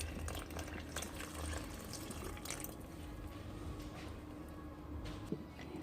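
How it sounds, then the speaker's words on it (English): Two cups of warm water poured into a homemade play-dough mixture of salt and vegetable oil, a steady splashing trickle that runs throughout at close range, with no talking. "And lastly, add your 2 cups of warm water."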